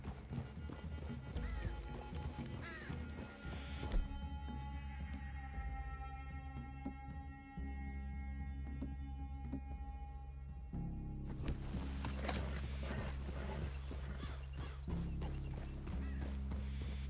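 Steady clip-clop of horse hooves with a whinny in the video game Red Dead, over a low musical drone, continuous throughout with no talking.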